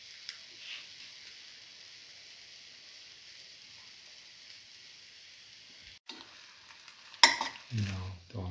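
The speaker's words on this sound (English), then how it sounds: "Let the omelette cook." An omelette fries quietly in a pan with a steady, faint sizzle throughout, broken near the end by a brief clatter and louder stirring or scraping sounds.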